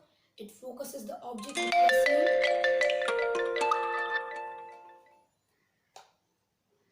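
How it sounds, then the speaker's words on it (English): A phone ringtone plays during a telescope unboxing, a bright melodic run of sustained tones lasting several seconds at moderate loudness, rising and then fading before a brief pause and a short final blip. "That's the sound of my phone."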